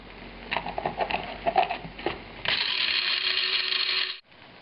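Black peppercorns, garlic powder, bay leaf, coarse salt and dried dill are ground in a hand mill, first with a few ratcheting clicks and then a sustained, close grinding rasp that stops abruptly.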